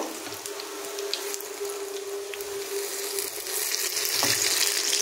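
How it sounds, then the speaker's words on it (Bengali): Kulekhara greens dipped in gram flour batter fry in hot oil, producing a steady, moderately quiet bubbling sizzle that holds throughout, with faint clinks and no speech. "এই যে দেখুন ভাজতে দিয়ে দিয়েছি।"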